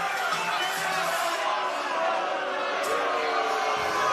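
Arena crowd at an MMA prelims event reacting with sustained disapproving noise after an intentional kick, a dense steady roar of many voices throughout without a distinct speaker.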